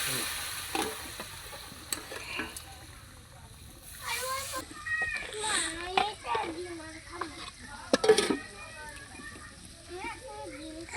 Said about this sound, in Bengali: মশলা খোসানি শেষ এখন আমি জল দিই মশলা